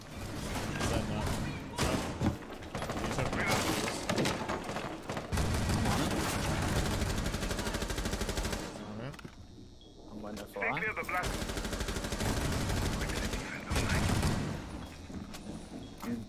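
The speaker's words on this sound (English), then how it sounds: "I'm putting 3 mags in it." Rapid bursts of automatic gunfire from a first-person shooter with the Thorn weapon, dense and sustained for most of the stretch and broken by a brief lull, with speech-like sounds mixed in.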